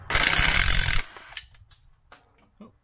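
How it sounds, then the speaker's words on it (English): An impact drill buzzes in one loud burst of about a second removing screws on a Mazda RX-8, then stops, leaving scattered small clicks and handling noises. "You can use a screwdriver, but I'm going to use my impact drill."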